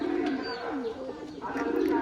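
A tula pigeon chick coos softly and close by in a steady, low, throaty murmur, with a faint voice-like layer underneath.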